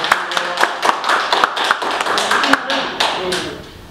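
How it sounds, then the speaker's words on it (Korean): An audience at a business seminar claps, a thinner scattering of distinct, sharp hand claps from a modest crowd, uneven in rhythm and fading out near the end. "박수 한번 치겠습니다"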